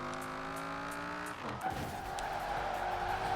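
A car in Forza Horizon 4 slides into a drift, its engine droning steadily before a sustained tire squeal takes over, loud and close for several seconds.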